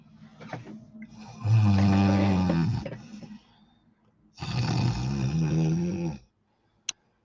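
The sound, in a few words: a man snoring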